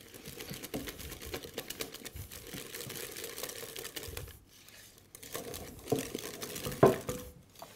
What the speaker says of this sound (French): On va la rebattre avec le fouet.